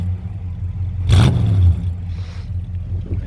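Chevrolet 150 with a 350 crate motor and Magnaflow exhaust idles low, then gives one short sharp rev around a second in before settling back to a rumbling idle, close by.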